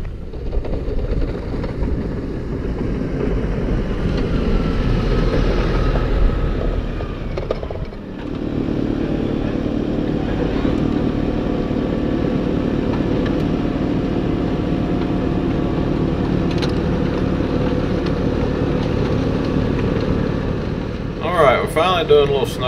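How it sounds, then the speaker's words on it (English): A snow blower drones steadily while clearing snow off a road, a continuous engine rumble with a brief dip partway through, and a person speaks over it. "Finally doing a little snow blowing here"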